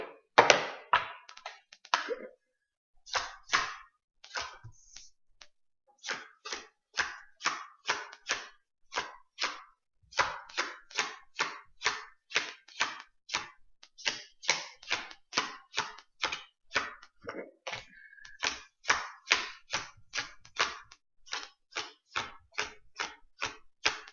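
Tarot cards drawn and laid down one after another, a long run of short close taps and slaps in uneven rhythm with brief pauses, with no talk.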